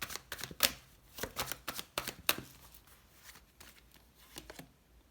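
Tarot cards handled, shuffled and laid out during a card reading, a close run of quick papery flicks and slaps in irregular bursts, louder at first and thinning toward the end, with no talk.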